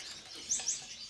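Two short, high chirps from a finch in a Gouldian breeding aviary, quick and fairly faint, standing alone over a quiet background.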